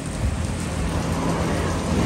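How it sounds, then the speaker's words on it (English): Steady heavy rain pours down close by, with a low thunder rumble rolling underneath, the downpour constant and loud throughout without any talking. "What do we do? It's raining."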